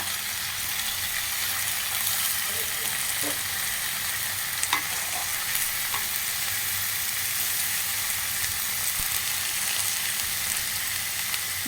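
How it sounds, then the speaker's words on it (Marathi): Washed fenugreek leaves cook in a pan with a steady, even sizzle throughout, plus a few faint scrapes and clinks and no voices. "आतां धुवन दवरलेलें ಮೆಂತ್ಯ ಸೊಪ್ಪು पळय ते हंतू घालून ते चिके मोव जेवतले."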